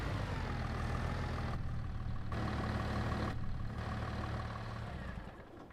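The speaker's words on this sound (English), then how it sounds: "Turn off this tractor." A tractor engine idling in Farming Simulator 22, a steady low rumbling drone with a faint mechanical whine that holds evenly and then fades slightly toward the end.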